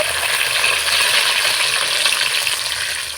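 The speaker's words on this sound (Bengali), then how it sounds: "টমেটোটা একটু নাড়াচাড়া করে ভেজে নেব" Chopped tomato stirred and frying in a hot pan, a loud steady hiss of sizzling with a rough crackle running continuously throughout.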